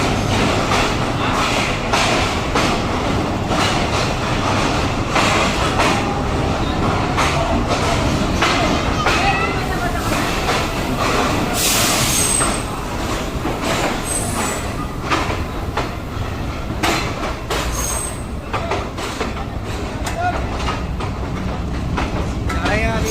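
The Shalimar Express rolls into Hyderabad railway junction with continuous loud rumbling, rhythmic wheel clatter and brief high squeals of wheels on rails, while voices talk faintly in the background.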